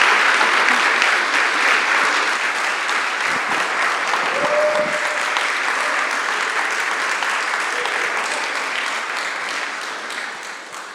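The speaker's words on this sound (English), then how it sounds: "so a round of applause" Audience applause for two speakers at an in-conversation event about Jean-Michel Basquiat, steady, dense clapping from a full room sustained for about eleven seconds, tapering slightly at the end, with no talking over it.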